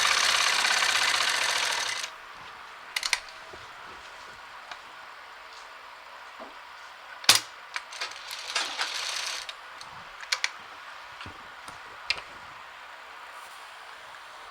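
Sewing machine stitching a salwar suit sleeve for a Patiala suit, a loud continuous whirring run at the start, then quieter scattered clicks and taps of the machine and fabric handling.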